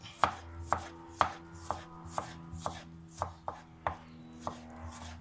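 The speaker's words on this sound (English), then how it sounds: "These some juicy tomatoes. Just slice them nice and thin, as such." A knife slices juicy tomatoes thin on a board with about ten crisp, evenly spaced cuts, close and clear, with no talk.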